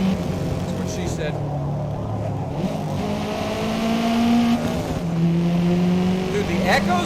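Race car engine in Forza Motorsport, its tone echoing off nearby walls as it revs and shifts through sustained pitch sweeps, loud and continuous with talk layered over it.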